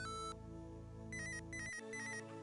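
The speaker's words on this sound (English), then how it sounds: "It sounds like an 80s cell phone." An old-fashioned cell phone ringtone chirps out in loud, steady electronic tones, with a brief break partway through before the ringing resumes.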